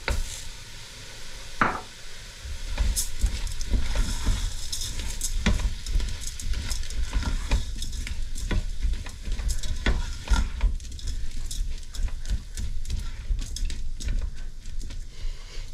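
Lentils go into a hot, sizzling curry pan and are stirred, with steady frying crackle, scraping of the spoon, and irregular knocks of the utensil against the pan, close and continuous without talk.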